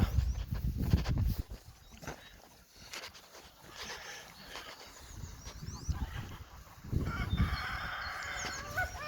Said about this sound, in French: Elle est complètement azimutée cette poule